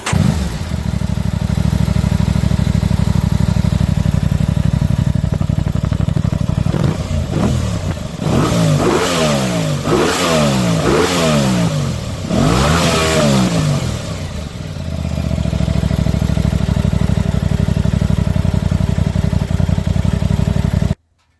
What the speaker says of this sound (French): Un petit démarrage, moteur bien sûr,